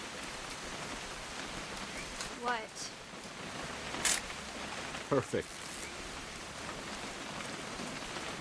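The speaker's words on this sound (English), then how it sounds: "It's gonna rain the whole weekend, isn't it?" Steady rain falling in the video game What Remains of Edith Finch, a soft constant hiss throughout, with brief speech and a couple of sharp clicks and rustles breaking in.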